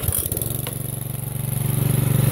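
A Toro walk-behind lawn mower running steadily in tall, wet, heavy grass, its engine holding a loud, even drone with a pulsing rumble close by.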